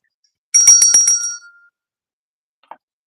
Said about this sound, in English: That deserves a bell ring.